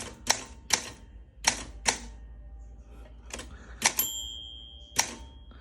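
A manual typewriter is struck in quick irregular bursts of sharp key clacks, close and crisp, with a bright bell ting ringing out once near the end of a line.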